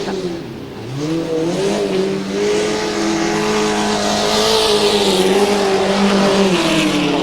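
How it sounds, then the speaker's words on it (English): A vintage speedcar engine roars and revs up down the straight at a speedway meeting at the Exhibition Grounds, Brisbane, pitch climbing steadily as it accelerates, loud and sustained with a brief dip early on. "You can hear that Sesko pull up that main straight there, or the back straight."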